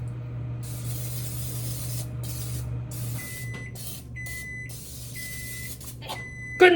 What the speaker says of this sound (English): let's spray our pan first